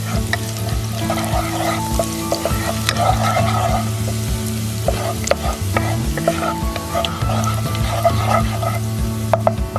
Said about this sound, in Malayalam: ഗാർലിക്ക് ചെറുതായിട്ടൊന്ന് മൂപ്പിച്ചെടുക്കാം.